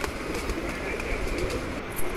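Pigeons in a loft, including a pair of red Surkhe pigeons, give soft, continuous cooing as a low, close murmur, with a faint rustle near the end.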